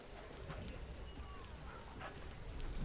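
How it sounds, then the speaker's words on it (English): Rain falls softly and steadily in the zoo-building game Planet Zoo, a faint even patter with scattered drops and no talking. "I like that the rain noise cuts off"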